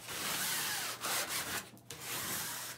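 Sandpaper rubbed by hand over the raised surfaces of a wooden kitchen cabinet door, a close, steady hissing scrape in several strokes with a few short pauses between them.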